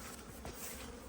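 Honey bees flying around open hive frames, a soft continuous buzzing drone close by, faint and steady with no talking.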